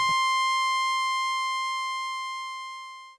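A single bright synth tone from a Sequential Take 5 strikes and sustains, slowly fading for about three seconds before cutting off abruptly into silence.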